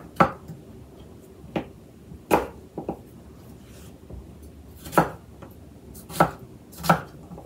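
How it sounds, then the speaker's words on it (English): A knife chops skin-on potatoes and other vegetables on a cutting board for beef stew, giving about eight sharp, close, irregularly spaced thuds with quiet pauses between strokes. "I'm just gonna cut my veggies up and get them into a bowl."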